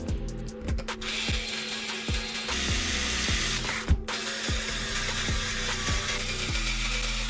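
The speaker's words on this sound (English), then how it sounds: "I like to start it off with the power tool and then torque it down by hand" A power tool drives wheel nuts on a Traxxas X-Maxx RC truck in repeated short whirring bursts with clicking, ratcheting pulses, close by, running steadily for several seconds.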